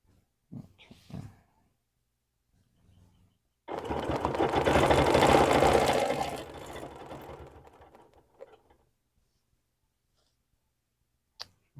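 A sewing machine stitches a quilt guided by a ruler, running in one loud burst of about three seconds between quiet handling clicks and taps.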